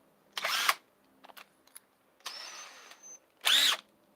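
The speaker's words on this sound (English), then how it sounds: "And then we're going to drill into it." Three short bursts of an electric drill spinning into a wooden stump for a chair seat, separated by quiet pauses and a few light clicks and taps.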